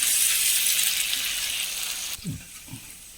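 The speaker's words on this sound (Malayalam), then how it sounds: "ചൂടായി എനിക്കൊരു ഇഞ്ചി വെളുത്തുള്ളി പെരിഞ്ചീരം കൂടി ചതച്ചത് വളരെ കുറച്ച് ഇട്ട് കൊടുത്തിട്ടുണ്ട്" Crushed ginger, garlic and fennel fry in a hot iron pan, a steady close sizzle that dies away partway through, followed by a couple of soft low knocks.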